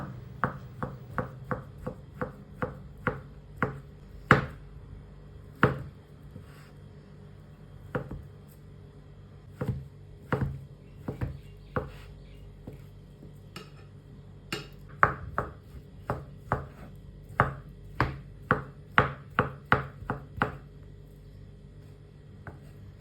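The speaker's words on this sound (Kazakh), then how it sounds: "Кейіннен дайын болған картопымызды осылай кубиктап," A knife dices boiled potatoes into cubes on a cutting board for cold okroshka soup, crisp close taps coming in quick runs and irregular clusters with short pauses between, no voices.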